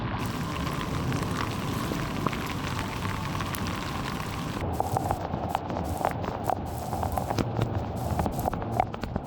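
Rain falls steadily at Tokyo DisneySea, a dense close patter of drops hitting surfaces with scattered sharper splashes, continuous throughout.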